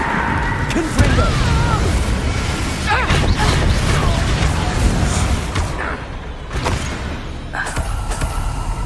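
Spell explosions and booming bursts from combat in the video game Hogwarts Legacy, several impacts with crashes and creaks layered over continuous game noise and voices, loud throughout.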